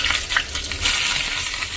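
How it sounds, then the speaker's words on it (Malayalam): Mustard seeds and small shallots fry in hot coconut oil, a dense, close crackling sizzle with scattered pops, steady and loud with no talk. "കടുക് പൊട്ടിക്കഴിഞ്ഞാൽ നമുക്കിതിലേക്ക് കൊച്ചുള്ളി ചേർക്കാം"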